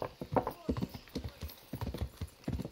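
Rapid horse hooves clopping in a steady galloping rhythm, close and clear, with faint background ambience, in the video game Kingdom Come: Deliverance.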